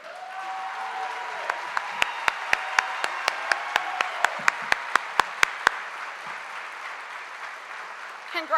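An audience applauds at the Plano ISD 2023 Teacher of the Year gala, a sustained wash of clapping with a steady run of sharp, evenly spaced claps, while a voice speaks over it.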